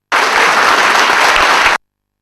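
An audience bursts into loud, dense clapping that starts abruptly, holds at full strength for under two seconds, then cuts off into silence.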